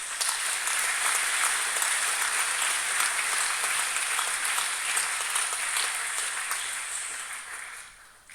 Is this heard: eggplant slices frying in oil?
no